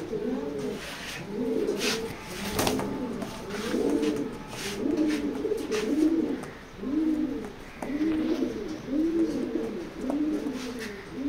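Racing pigeons coo steadily in a loft, a regular rhythm of soft, rolling calls repeating every second or so, close and continuous, with faint chirps and no talk.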